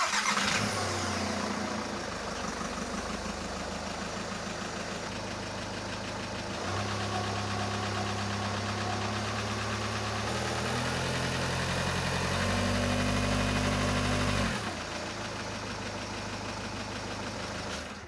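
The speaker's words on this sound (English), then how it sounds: "now we can start the car on the jack stands and test the new clutch and the new starter" A Skoda Superb 2, raised on jack stands with a new clutch and starter fitted, cranks and fires, then settles into a steady, loud engine idle that rises briefly before dropping back.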